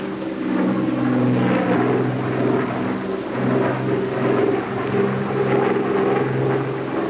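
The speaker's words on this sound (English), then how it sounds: "At 135, I cut the right engine." An A-26 Invader propeller bomber flying on one engine, right engine cut, drones steadily overhead, its engine hum rising and falling slightly in a continuous rumble.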